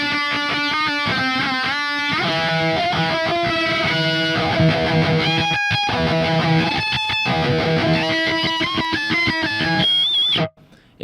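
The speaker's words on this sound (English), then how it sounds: "Or you can really slice it up and use the second blade option." Heavily distorted Neural DSP Archetype Gojira guitar with the second blade octave setting, playing dense low chugs topped by a piercing high octave layer, loud and continuous, stopping abruptly near the end.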